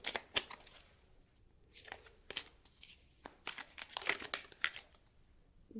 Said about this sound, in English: We will now shuffle the oracle cards for each set of cards, for each set of tarot cards